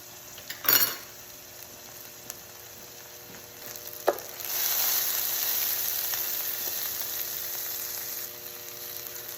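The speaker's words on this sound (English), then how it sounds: "we've got our onions and our butter and our oil all cooking up here" Onions cook in butter and oil in a pan, with a clink of utensils early on and then a steady, moderate sizzle that fills the rest of the clip.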